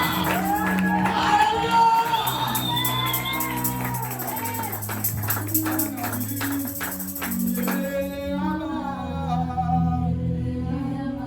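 A church congregation at a praise and worship service shouts and cries out in praise to God, loud overlapping voices with whoops and cheers over sustained music, the crowd noise thinning toward the end.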